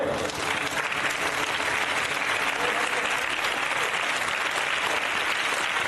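Loud sustained applause from a crowd of students at a school prize giving for an inter-school under-14 football tournament, dense clapping continuing evenly throughout.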